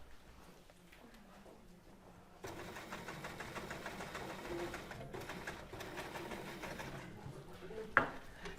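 A sewing machine stitches a seam on a waistcoat, a steady fast mechanical whirring that starts abruptly and runs for several seconds at moderate level, with a short sharp click near the end.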